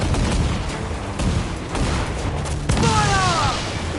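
Ship cannon volleys in Assassin's Creed Black Flag during a naval battle, dull booms rolling over continuous roaring battle noise, with a whistling, warbling tone rising near the end.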